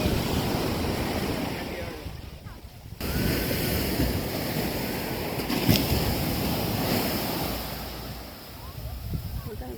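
Ocean waves wash onto Culebrita beach in Puerto Rico, a steady roar of surf mixed with wind buffeting the microphone, with boats nearby.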